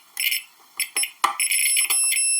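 A multimeter in continuity mode gives a series of short, bright electronic beeps, some clipped and some held longer, as probes touch solar and battery terminals. The beeps are close and loud with silence between them.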